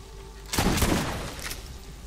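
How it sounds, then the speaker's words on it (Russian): Shotgun blasts in the video game Borderlands: one loud, booming shot about halfway through, a fainter one shortly after, and quieter ambience on either side. "теперь я буду тратить по 2 выстрела на дробаше"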